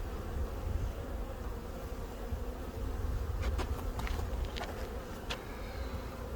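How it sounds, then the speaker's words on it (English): Steady, dense buzzing of many gentle honeybees around an open hive close by, a continuous drone with a few sharper clicks and taps mixed in. "these bees are, so far, they're very gentle"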